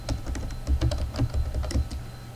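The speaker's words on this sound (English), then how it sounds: "We type yum install" Typing a telnet install command on a computer keyboard in a Red Hat terminal: a short run of quick, close keystrokes with clicks and slight unevenness, alone with no voice.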